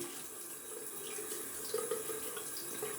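Tap water runs steadily into a sink as a Karve razor is rinsed, a close continuous splashing with slight bubbling and no talk.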